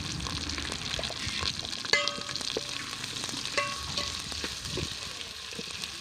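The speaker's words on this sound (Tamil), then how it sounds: "வெங்காயம் போட்டுக்கலாம்." Onions frying in hot oil in a pan for a Tamil dry fish curry, a steady close sizzle with faint stirring scrapes and no talk.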